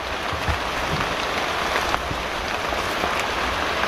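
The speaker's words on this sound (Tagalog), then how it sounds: "Sisilong lang tayo kasi umuulan eh." Steady rain pours down outdoors in a broad, constant hiss with scattered patters of drops on nearby surfaces, continuous and fairly close throughout with no voices.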